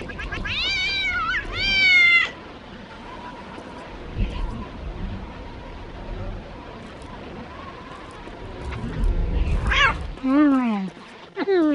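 A cat meows in the video game Postal 2 Apocalypse Weekend, with several loud, drawn-out meows near the start and a cluster of sharp rising cries near the end, over a low game ambience.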